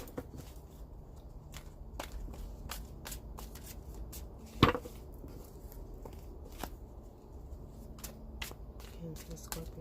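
Tarot cards shuffled by hand, a soft riffling patter with occasional sharp snaps and one louder slap near the middle, close and fairly quiet.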